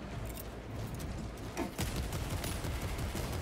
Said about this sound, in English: I can shoot back too.